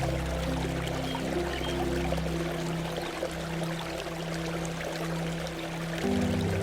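Cascades on the Lazarul stream in Valea Marii, Romania, give a constant close rushing pour of falling water with a low droning undertone.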